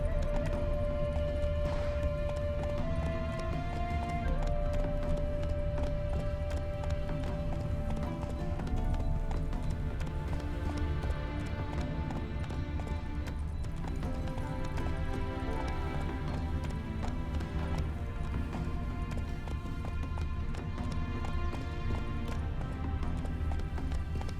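In The Witcher 3, a horse gallops with a steady stream of hoofbeats under constant game music and ambient sound, holding at an even, busy level from start to finish.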